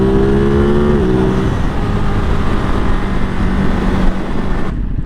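A 2022 Ducati Monster 937 naked twin revs up close and loud, its engine note climbing and then holding at a steady growl before cutting off near the end.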